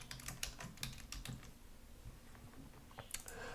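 Soft, quiet keystrokes on a computer keyboard come in an uneven run of taps, pausing briefly before a few more clicks at the end.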